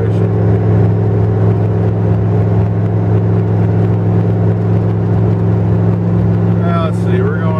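Dakota pickup truck cruising on a bumpy road at about 58 mph and 2600 RPM, heard from the cab as a steady loud engine drone and road rumble without letup.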